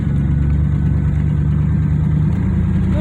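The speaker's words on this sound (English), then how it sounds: "Oh, a little exhaust leak." A 1988 Pontiac Trans Am GTA engine idling with a steady low rumble and a rough, puttering exhaust note from an exhaust leak, loud and close, continuous without any change in pace.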